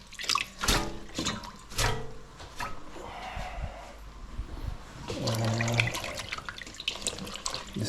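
Parsley rinsed under a running kitchen tap, splashing and dripping water with intermittent bursts and a steadier stream toward the end, close by and fairly quiet.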